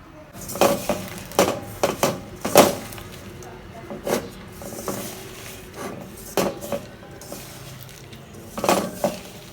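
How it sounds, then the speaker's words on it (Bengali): Puti fish being mixed by hand with garlic and ginger paste in a metal pot, producing irregular clanks and clinks of metal against metal between quieter moist rubbing, close by, with some talk. "মশলাটা মাখা নিয়ে এখন পুঁটি মাছটা দিয়ে দিলাম পুঁটি মাছটা দিয়ে মাখাচ্ছি"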